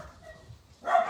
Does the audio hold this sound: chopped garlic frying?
no